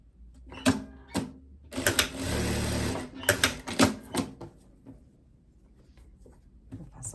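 A sewing machine stitches a dart on a blouse, one steady run of about a second between sharp clicks and fabric handling, close and moderately loud.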